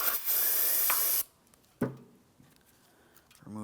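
A spray nozzle blasts a loud, close hiss over the rear brake parts of a 2007-2014 GMC Sierra 2500 HD for about a second, then cuts off, followed by scattered faint clicks and handling noises.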